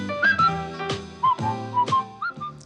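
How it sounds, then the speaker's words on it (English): A person whistles a bouncy, cheerful melody from a song, a few short bright phrases heard close and clear with no talking. "give a whistle"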